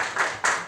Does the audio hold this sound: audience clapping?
yes